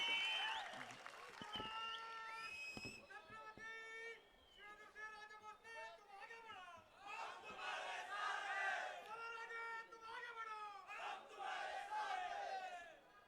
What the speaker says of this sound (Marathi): आमदार शिवेंद्रसिंहराजे भोसले यांच्यासाठी जोरदार टाळ्या।